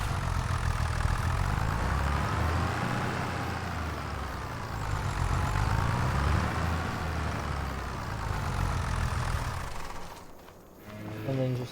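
Small tractor engine in Farming Simulator 25 holds a steady low rumble while being parked, running continuously near and fairly loud, dipping briefly toward the end before picking up again.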